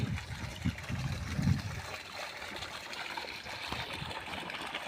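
Water gushing steadily from a running irrigation pump motor in a wheat field, a continuous hissing trickle and splash heard up close with a few low thumps early on.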